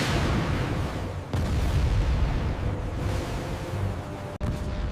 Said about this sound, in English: A large, fiery explosion detonates on the left, displaying 30 kilometers.